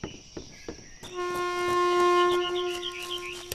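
A train in the video game INFRA sounds a loud sustained horn chord as it approaches, following a few short clanks, the blaring tone swelling and holding for a couple of seconds.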